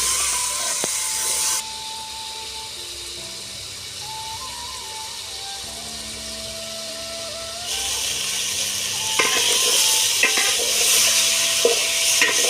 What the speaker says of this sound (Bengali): এখন ভালো করে নাড়াচাড়া করে মাংসটাকে লাল লাল করে ভেজে নেব